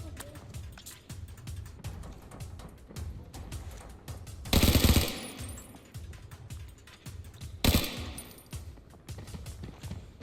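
Rapid automatic gunfire in the shooter game Arena Breakout, with a dense stream of sharp shots and two louder, heavier bursts partway through, all fairly close and set over low mechanical rattling.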